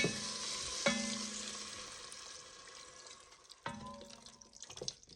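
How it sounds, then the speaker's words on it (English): Chicken broth pours and splashes into a hot pot of sizzling garlic, hissing, with a couple of sharp clinks as the pouring starts and stops. "I'm gonna go ahead and add my chicken broth."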